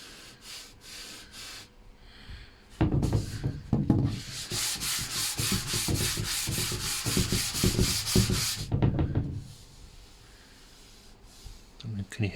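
Wooden pigeon-hole storage shelves being hand-sanded to take off roughness, a loud, steady, close scratchy rasp of back-and-forth strokes lasting several seconds, with quieter rubbing before and after.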